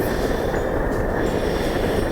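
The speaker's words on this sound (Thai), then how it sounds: "รถไฟวิ่งผ่านตรงเนี้ย" A train rolls past close by on a mountain route near Doi Khun Tan, Lampang, heard as a steady, loud broadband rumble with rail noise that holds for the whole moment, without talk.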